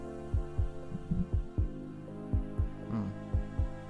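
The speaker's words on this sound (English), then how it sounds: "We got this nice heartbeat." Deep thumping heartbeat in an electronic track, a steady series of paired low thuds under a sustained droning synth hum.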